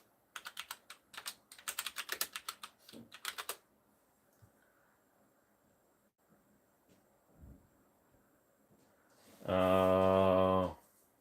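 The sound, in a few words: typing on a keyboard the camera is mounted to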